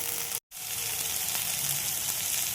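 Green beans dropped into a pan with green chillies for chirer polao hiss in a soft, steady sizzle, broken once by a brief moment of silence near the start.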